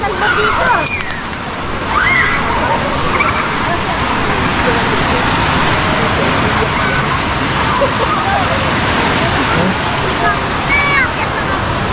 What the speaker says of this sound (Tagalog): Ang ganda ng ilog.